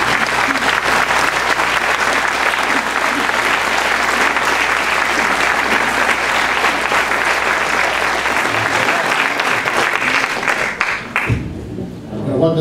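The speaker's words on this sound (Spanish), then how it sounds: "por lo que les pido un fuerte aplauso." A concert audience claps loudly and continuously, a dense wash of applause that holds steady before cutting off abruptly near the end.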